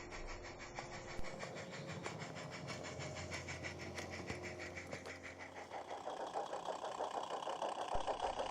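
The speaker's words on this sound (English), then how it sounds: "number 6 shunts the wagons into the sidings" A small battery-powered, radio-controlled model locomotive on a light railway hums and whirs steadily as it shunts wagons into sidings, with faint clicks of wheels on track and a rising mechanical drone near the end.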